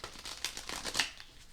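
Somnia tarot cards of the illustrated edition being shuffled by hand close by, a quiet run of soft riffling flicks and papery slaps over a second and a half.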